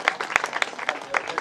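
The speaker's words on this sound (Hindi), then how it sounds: "तो जोरदार ताली बजा" A crowd claps at a Christian testimony gathering in Hindi, with sharp irregular claps that build into a scattered round of applause over a short stretch.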